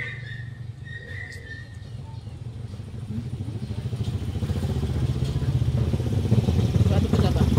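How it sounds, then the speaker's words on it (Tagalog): A motorcycle engine builds from a low idle to a loud, rumbling drone as it draws near, growing steadily louder toward the end. "Grabe, ingay ng mga motor, mga pangit."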